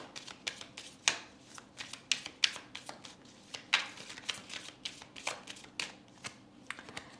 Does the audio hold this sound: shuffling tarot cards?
yes